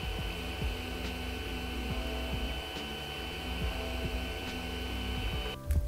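A Creality CR-10 3D printer with stepper dampeners driving its Y-axis, a quiet, even stepper hum in changing pitched steps over a low mains-like drone, ending with a brief clunk.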